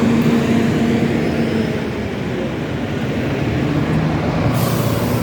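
Buses climb a hill road with a steady, loud, close engine roar and a sustained airy hiss of air brakes that runs throughout without pause.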